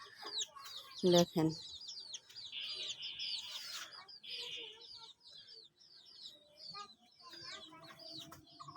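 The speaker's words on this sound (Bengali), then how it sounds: "তো দেখেন মুরগিগুলো হাঁটছে" Chickens cluck and call in a home yard near vegetable plots, with scattered bird chirps around them; someone talks briefly over the hens.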